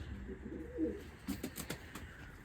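Pigeons in a pigeon coop give soft, low cooing calls, faint and intermittent against a quiet background, with a few light rustling knocks toward the end.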